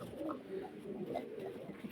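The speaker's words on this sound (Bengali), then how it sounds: "এটা রোমান গাল কবুতর" Roman gal pigeons coo in a low, continuous murmur, quiet and nearby, with no voices over it.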